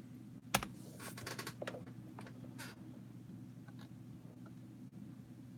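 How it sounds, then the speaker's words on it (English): Soft keystrokes on a computer keyboard tap in short irregular bursts, faint and close over a low steady hum, then trail off into scattered clicks. "Sorry, I'm typing in something."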